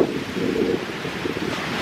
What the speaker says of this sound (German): weil es ist ganz schön windig und kalt.